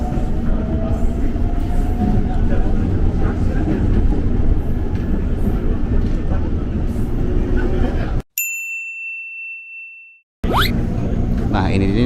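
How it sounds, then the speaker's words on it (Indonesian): A KRL commuter train pulls out of Jakarta International Stadium station from track 1, a loud rolling rumble with a chime before a sudden cut. "ini dia nih kita melintaskan berangkat dari jalur 1 stasiun Jakarta International Stadium."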